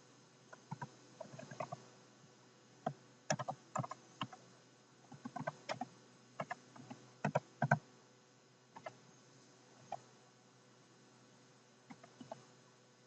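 Keys on a computer keyboard tap out an IP address in short irregular bursts of quiet clicks with brief pauses between, close and soft in an otherwise silent room.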